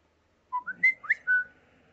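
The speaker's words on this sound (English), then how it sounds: "That was actually me whistling," A person whistles a short tune of five or six distinct notes, rising and sliding, close and clear against near silence, lasting about a second.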